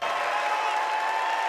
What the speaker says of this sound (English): Applause for a civil rights icon who dedicated his life to keeping hope alive.